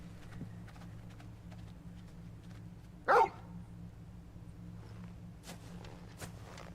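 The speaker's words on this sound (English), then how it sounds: "Good dog. Well, wolf, but still." A single short bark from a wolf companion in the Final Fantasy XVI video game, one sharp burst midway through over a quiet, steady ambient game background.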